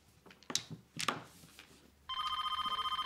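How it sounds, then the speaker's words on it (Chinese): A telephone rings indoors during a card game, a rapid repeating electronic trill that starts partway through after a few soft clicks and clatters from the table. "我先接个电话啊"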